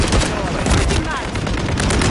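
Semi-automatic rifle fire in Modern Warfare 3, a loud, dense barrage of rapid gunshots and overlapping shooting with faint voices mixed beneath the continuous din.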